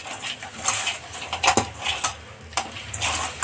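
Fish pieces being mixed with masala in a bowl give repeated clinks and scraping knocks against the bowl in an irregular rhythm, close and fairly clear.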